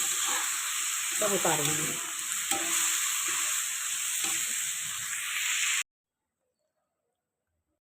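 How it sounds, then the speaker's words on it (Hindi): Saag greens sizzle and hiss steadily in a hot kadhai while being stirred and scraped, with someone speaking briefly over the frying before it cuts off. "चलो साग हमारा अच्छे से इसको भूनना है मुझे अभी"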